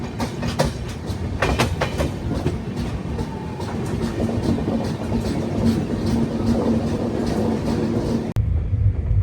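The Rayalaseema Superfast Express passenger train runs on the Tirupati to Secunderabad route with a steady, loud rumble and clattering wheels heard from on board, before the sound cuts off abruptly near the end.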